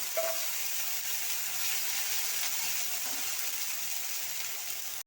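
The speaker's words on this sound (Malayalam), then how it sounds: "ചക്കമ്പൂ ഇത് വെണ്ണയിൽ കിടന്നൊന്ന് വാടി വരണം" Jackfruit flower sautéing in butter with a splash of oil and water gives a steady, close sizzle and frying hiss that runs without pause, with faint stirring clicks near the start.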